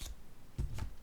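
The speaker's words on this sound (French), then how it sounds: "Allons-y avec une première carte." Tarot cards shuffled and drawn, heard as a few brief papery riffles and slaps close by, with a quiet pause between them and no talking.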